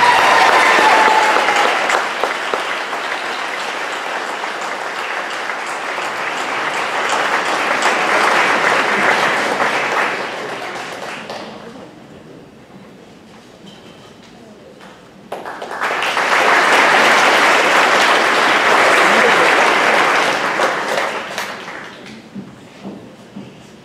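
A convocation audience applauds in two long waves, the first dense clapping fading to near silence before a second full round swells and tapers off, loud and close.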